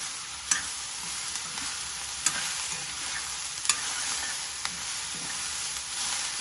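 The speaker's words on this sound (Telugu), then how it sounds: "ఒకసారి ఇలా కలిపి మూత పెట్టి" Ridge gourd curry stirred in a pan over steady frying sizzle, a spoon clinking sharply against the metal four times at irregular intervals, close and clear with no talking.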